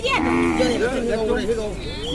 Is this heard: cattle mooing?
yes